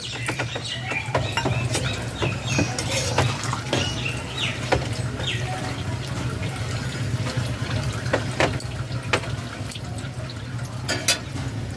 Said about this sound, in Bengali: এখানে সাড়ে তিন কাপ নর্মাল জল দিয়েছি